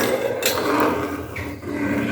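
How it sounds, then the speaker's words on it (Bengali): A spatula scrapes and stirs chushi pitha (hand-rolled flour dumplings) in a pan, giving close, steady scraping and knocking strokes with no talk. "এই পিঠা আবার খুন্তিতে নাড়া লাগবে।"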